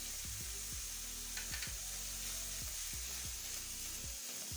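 Chopped onion fries with garlic and ginger in a pan, a continuous soft sizzle broken by regular scraping stirs every half second or so, close and quiet with no talking.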